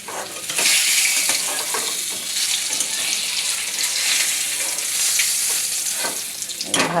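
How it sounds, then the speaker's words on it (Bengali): Fish fries in hot oil in a pan with a loud, continuous, close crackling sizzle, punctuated by occasional light taps of a spatula. "মাছ ভাজা হয়ে গেল।"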